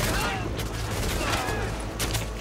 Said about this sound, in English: Look at my turret over there killing people.